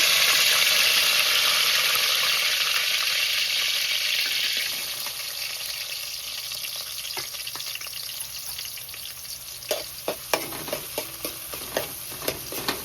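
Chopped Malvani onions frying in hot oil in a pan for crab curry, a loud steady sizzle at first that drops to a softer crackle, with scraping stirs near the end.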